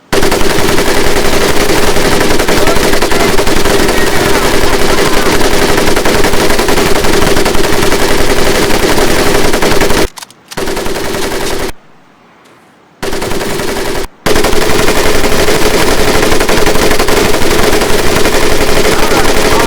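Machine gun fire from the Medal of Honor Pacific Assault training grounds: loud, sustained automatic bursts that roar for about ten seconds, break off in short gaps and silence, then resume just as heavily.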